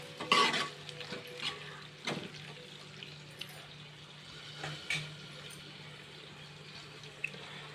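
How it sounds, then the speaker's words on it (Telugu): Cauliflower pieces are tossed and stirred in a pan of spicy chili curry with oil: soft, low sizzling broken by several spoon scrapes and clinks against the pan, fairly quiet overall. "ఇప్పుడైతే మన క్యాలీఫ్లవర్ ముక్కలు అయితే వేసేస్తున్నాను. వేసేసి మొత్తం తిప్పేసేసి మొత్తం నీట్గా కలిసేటట్టు కలిపేస్తాను"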